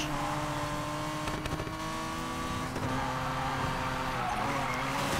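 Race car in Need for Speed Payback sliding and skidding through a drift, steady loud engine drone with tire squeal layered over it, continuous and close, with no talk.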